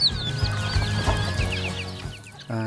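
Thai native chickens and Pradu Hang Dam hens clucking and chattering together as they wait to be fed, a busy, continuous farmyard chorus close by, with a short squawk near the end.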